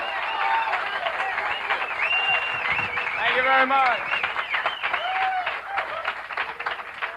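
Audience applause and cheering for a comedian at a 1987 televised stand-up show, a dense crowd roar with whoops that fades as he thanks them over it.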